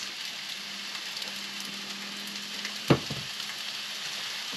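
Rice frying in a pan with sweet soy sauce on a sailboat galley gives a soft, steady sizzle, faint and even, broken by one sharp stir or clink midway.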